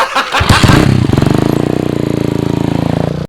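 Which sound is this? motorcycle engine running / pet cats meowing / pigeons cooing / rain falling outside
motorcycle engine running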